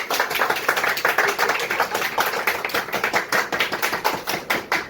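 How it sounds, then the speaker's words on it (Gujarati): Applause honoring the anchor at a family gathering: several people clap steadily and close by, a dense patter of claps lasting about five seconds with no talk over it. "હવે આપણા એન્કર રાજેશભાઈ હિંમતભાઈ ચૌહાણ એનો બધા તાળીથી સન્માન કરો"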